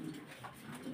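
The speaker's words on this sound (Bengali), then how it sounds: "ভাবি, আরও এক পেয়ার কবুতর।" Pigeons at a home breeding farm coo softly at close range, a low murmuring call that carries on throughout with no talk over it.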